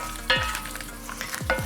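Onions browning in a saucepan, stirred now and then so they catch and form little caramelised crusts on the bottom; a steady close sizzle runs throughout, with a few sharp scraping strokes of the spoon.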